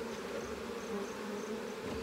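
Honeybees hum in a dense, steady drone at an open hive, close and continuous for the whole stretch with no voices.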